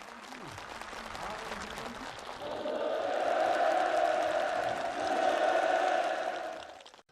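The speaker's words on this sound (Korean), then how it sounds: "참가자들의 열렬한 박수 속에 살림집 이용 허가증이 전달됐습니다" Enthusiastic applause from participants at a housing move-in ceremony in North Pyongan Province, rising after a couple of seconds into a loud, sustained, dense clapping from a crowd, with some voices underneath early on.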